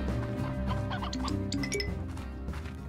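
In the Slime Rancher video game, a stony hen gives short clucks over a steady, continuous bed of game music and ambient tones, with no one speaking.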